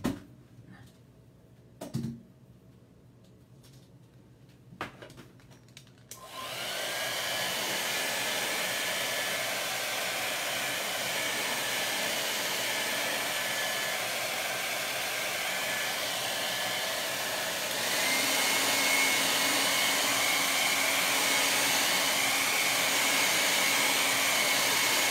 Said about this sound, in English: I am going to grab my dryer and dry that up a little bit.